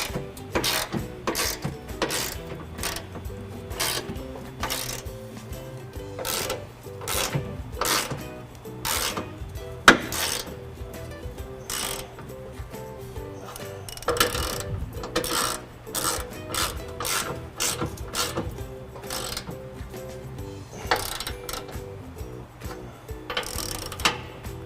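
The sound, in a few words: ratchet tightening bumper nuts on a Ford F-150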